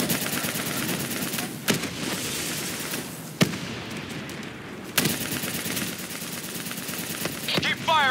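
Sustained automatic gunfire in the Call of Duty Black Ops 3 campaign, aimed at an attacking VTOL aircraft. Dense rattling bursts run throughout, punctuated by a few sharp louder cracks, with battlefield noise and voices mixed in.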